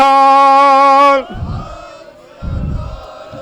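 A crowd roars a Sikh jaikara war cry in a loud, sustained burst after a long call from a single voice, with a second, shorter surge of massed shouting following close by.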